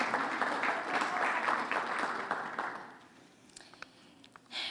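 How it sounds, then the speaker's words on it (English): Audience applause at a chamber of commerce awards gala, a steady wash of clapping from a crowd that fades out after about three seconds, leaving a quiet hall with scattered claps and small noises. "give her a round of applause."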